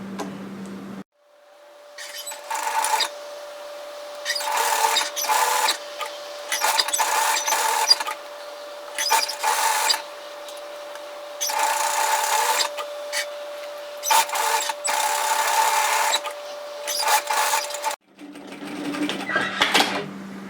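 Sewing machine stitching along the long edge of a bomber-style varsity jacket, loud close bursts of rapid needle clatter starting and stopping repeatedly with a steady motor whine between.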